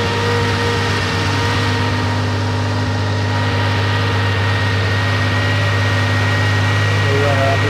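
Carburetted 3.0-litre Porsche 911 Carrera engine running at a steady idle, a loud continuous low hum throughout, with voices talking over it.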